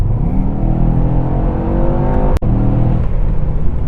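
A 2021 Mercedes-Benz E63S engine pulls hard at full throttle, a loud continuous roar with rising harmonic tones that climbs steadily, briefly cut by a sharp gap near the middle before resuming strongly.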